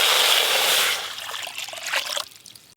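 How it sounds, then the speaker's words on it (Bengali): Water is poured into a kadai to set it up for steaming, first as a brief, bright gush and then as a thinning trickle and splash that fades out. "ভাপার জন্য এই যে কোড়াতে জল দিয়ে দেব।"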